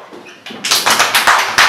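Schoolchildren in a Tunisian kindergarten classroom clap together for a classmate, a short burst of quick, close, fairly loud claps that starts abruptly and keeps a steady patter for about a second.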